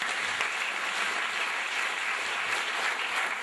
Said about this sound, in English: Give a big clap to Sita.